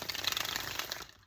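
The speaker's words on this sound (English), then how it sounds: "That was a good one. Good shuffle." A deck of playing cards being shuffled: a dense run of soft crisp riffling and papery flutter lasting about a second, close and fairly quiet, with no talking.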